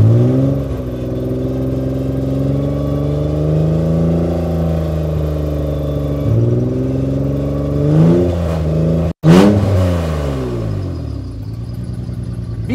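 The engine of a repaired Honda Pilot runs close by with a steady drone and rising and falling revs, several swells in pitch, and one sharp break in the middle.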